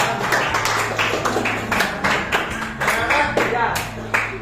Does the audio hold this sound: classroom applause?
yes